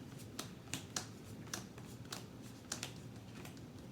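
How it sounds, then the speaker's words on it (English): Magic: The Gathering cards dealt face down onto a table, a quick irregular run of soft crisp flicks and slaps, close and quiet with no talk. "You're going to deal yourself 7 cards."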